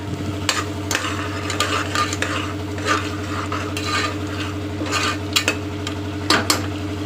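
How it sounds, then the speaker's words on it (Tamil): Onions sautéing with melted mutton fat in a pan, close and loud, with repeated scraping stirs and clinks of a spoon against the pan over a continuous sizzle and a low steady hum. "இப்போது இந்த வெங்காயம் நம்ம வதக்குறோம் இல்லையா"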